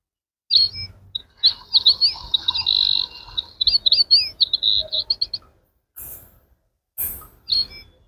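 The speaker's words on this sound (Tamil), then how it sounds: "இதை ப்ரெஸ் பண்ணிட்டீங்கன்னா அந்த பறவைகளோட சவுண்ட்லாம் கேட்குங்க." Birdsong nature sounds play from an electric massager: a busy run of bright chirps and trills that pauses, then returns as short, sharp calls, fairly close and clear with no talk.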